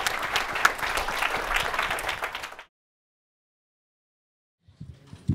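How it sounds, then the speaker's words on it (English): An audience applauds speaker Josh Bersin with a burst of dense, lively clapping that cuts off abruptly into silence, followed by a few faint scattered sounds near the end. "One more round of applause for Josh."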